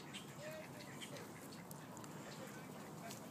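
Ducks quack softly around people feeding them by hand at a pond, a few brief calls over steady outdoor background noise.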